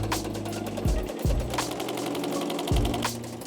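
Power hammer shaping a metal panel for a widebody car build, a fast, loud, continuous mechanical chatter of rapid blows with a few brief dips and resurgences in speed.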